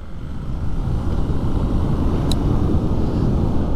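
A BMW R nineT motorcycle, the A2-licence version, rides through a series of bends, giving a loud, steady rumble of engine and wind noise throughout with no voices.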